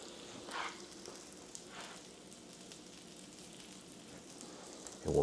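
Buttermilk pancakes frying on low heat give off a soft, steady sizzle in a pan, quiet and even throughout, with a faint clunk at the very end.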